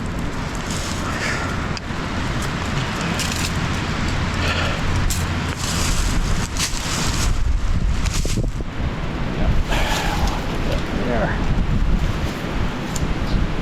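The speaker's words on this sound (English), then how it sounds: "it's a little windy today" Steady blustery wind gusting through Adirondack mountain woods on a cold day, a loud continuous rush of noise close to the microphone that swells and eases throughout.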